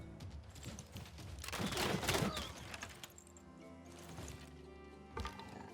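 Gunfire from attacking units in the strategy game Civilization VI: a dense burst of shots, loudest in the middle, rising over game music and effects and trailing off into a sustained musical backdrop, with one more short impact near the end.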